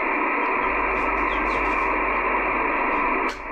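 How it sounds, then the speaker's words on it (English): Steady, loud broadband radio static on a sideband, hissing continuously, with faint warbling tones drifting through before dropping off abruptly near the end. "This is an unusual amount of noise on this radio."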